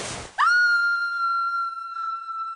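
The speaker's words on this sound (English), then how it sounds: "Penny screamed." A girl lets out a long, high-pitched scream in a magical storybook scene, starting after a brief noisy rush and holding a loud, steady tone for about two seconds with no talking over it.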